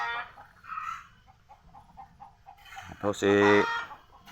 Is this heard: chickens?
yes